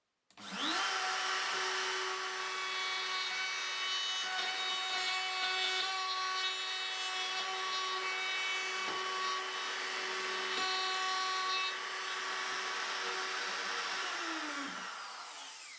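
An electric router fitted with a centering bearing cuts a 2 cm deep mortise in a wooden strip, a loud steady high whine from start-up to spin-down, with no talking.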